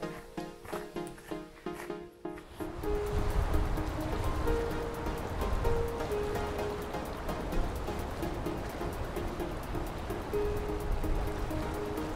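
Steady rushing water of a waterfall in Quebec roars continuously, a broad full wash of falling water, loud and close after a brief quieter start.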